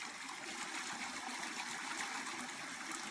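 Foraged mushrooms being rinsed in water outdoors in a forest, with a steady, close trickling and splashing flow running continuously with no talk.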